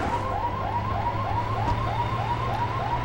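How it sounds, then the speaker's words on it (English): Car alarm of a stolen car in the GTA III video game, wailing in a steady, rapidly repeating up-sweeping whoop, loud and continuous over a low engine hum. "The alarm goes off as soon as you get in"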